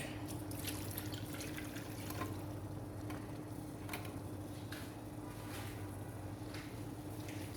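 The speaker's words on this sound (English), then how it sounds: "I'm just going to add a bit more water." Water is poured into a pot of egusi soup, a faint trickle and scattered drips against a low background hum, with no talking.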